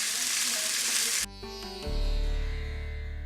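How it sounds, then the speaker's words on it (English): Onions frying in a pan give a loud, steady sizzle for just over a second, then a change in the texture of the sound, then a louder, broader frying hiss as they are stirred. A few faint clinks fall near the middle. "I'm going to stir them until they become a lovely golden brown."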